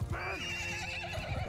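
A horse in the video game Mount & Blade II: Bannerlord gives one loud, close whinny over a short burst of clopping hooves.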